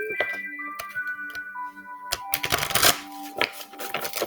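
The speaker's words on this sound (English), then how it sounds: "Now we're just quickly shuffling for that love card we have here." Tarot cards are shuffled in quick riffling bursts, with a few sharp taps and flicks at close range, no talking.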